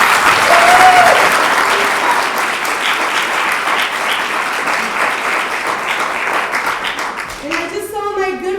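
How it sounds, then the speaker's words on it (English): Loud, steady audience applause for students at an International Women's Day event, many hands clapping for about seven seconds before fading as a speaking voice comes in near the end. "So let's give them a round of applause."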